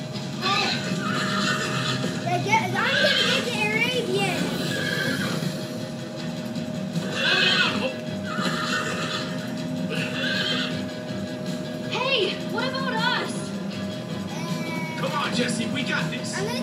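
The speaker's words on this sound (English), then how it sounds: "Horses! Everybody, get on!" Horses whinny repeatedly over a busy, steady background of hoofbeats and rumbling motion, with a constant electronic hum underneath.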